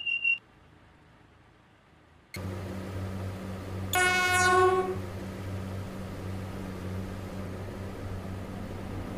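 A short beep, a pause, then the steady low rumble of a Pacer Class 143 train running in a video game, with a brief horn-like blast partway through.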